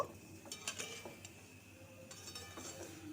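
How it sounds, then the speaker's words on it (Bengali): Raw mango pieces being stirred with sugar in a bowl give soft, irregular scraping and light clinks of a spoon against the dish, faint and close. "দিয়ে আমগুলো চিনির সাথে মিশিয়ে নিচ্ছি"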